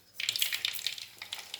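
Mustard seeds crackle and sputter in hot coconut oil in a clay pot while a fish chilli curry is cooked, a dense burst of small pops close by with no talking.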